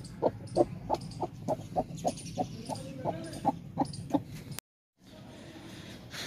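A broody hen that had been sitting on eggs clucks in a steady, evenly spaced series of about fourteen close, fairly loud clucks, then falls silent.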